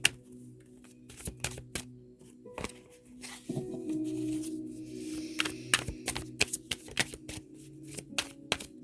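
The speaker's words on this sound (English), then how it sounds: "I've already pre-shuffled the cards," Tarot cards are shuffled and riffled close up in repeated sharp, papery bursts of flicks and slaps over a low steady hum, with no talk.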